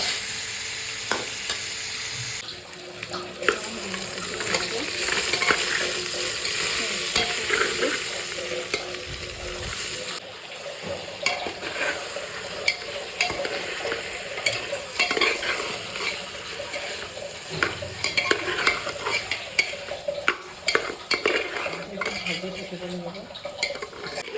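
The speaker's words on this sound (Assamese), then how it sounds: "তেল বিৰিঙি আহিছে আৰু অলপ ভাজিব লাগিব" Potatoes fry in bubbling oil in a metal pot, a loud, close sizzle running throughout with frequent scraping and clinking as a spoon stirs them, with brief pauses in the hiss.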